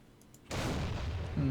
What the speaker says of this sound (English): Ammunition explosions are awesome